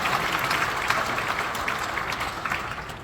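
A church general assembly in Suwon claps in unanimous approval of a single candidate, a full, even round of applause from a large hall filling the moment without speech.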